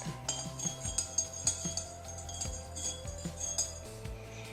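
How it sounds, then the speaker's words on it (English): A spoon stirs salt into hot water in a glass bowl, giving repeated light clinks and taps against the glass in an uneven rhythm, close and clear with no talking. "Then you'll need to put in some salt and stir it up."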